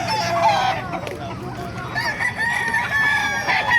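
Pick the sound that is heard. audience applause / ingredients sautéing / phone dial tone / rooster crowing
rooster crowing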